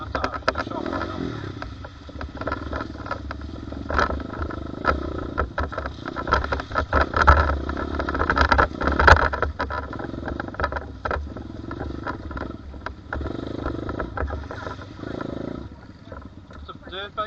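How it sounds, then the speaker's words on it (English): A kids' budget dirt bike engine runs continuously for a long stretch, a steady rough buzzing drone that rises and falls with the throttle, with voices talking over it. "It's a dirt bike, it's meant to be dirty."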